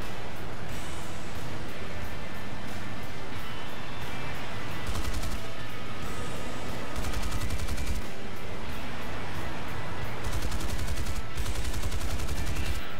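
F9F-2 Panther cannon fire in War Thunder, rapid loud bursts of automatic gunfire in repeated volleys over a steady roaring jet engine, with no talk.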